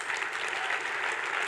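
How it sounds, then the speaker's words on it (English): A crowd at a startup-week awards ceremony applauds, a dense, steady wash of many hands clapping at once, with no pauses or talking. "Give them a round of applause."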